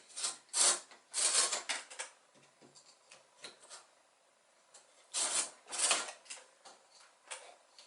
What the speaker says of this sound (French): mes petits segments de bambou, toujours avec le même angle, eh bien, j'utilise cette boîte à onglets